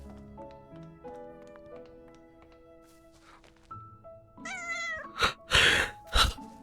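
A cartoon cat meows several times in the Little Witch in the Woods video game, rising and bright over soft game music and tapping sounds, the loudest calls near the end.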